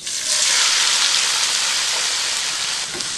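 Onions hitting a hot pan of oil with green cardamom, cloves and other spices, for Indian egg keema, give a loud, steady, broadband sizzle that holds for about three seconds and fades slightly near the end.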